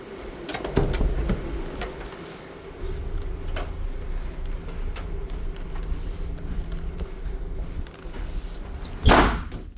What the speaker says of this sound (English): You hear that door?